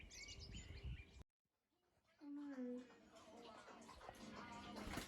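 Garden birds, a great tit and a blackbird, sing near an old barn, with whistled phrases and chirps running under a voice, broken by a brief quiet gap.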